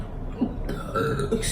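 A single brief, low burp from a person during a Domino's pizza meal, close to the microphone and short, amid faint room noise.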